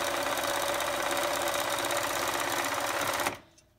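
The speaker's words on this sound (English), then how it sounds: "I'll sew all of this seam like this" A sewing machine runs steadily, stitching a seam on a shaped face mask during batch sewing, loud and close, then stops abruptly near the end with a small click after.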